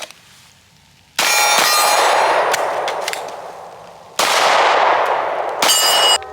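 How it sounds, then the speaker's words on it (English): Shots ring off steel targets at an outdoor shooting range: sharp gunshots followed by loud metallic clangs that ring and decay over a second or more, in separate bursts with quiet gaps. "I'm gonna shoot 2 to the body, reload, drop 1 to the head"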